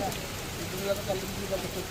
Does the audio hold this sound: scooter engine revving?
no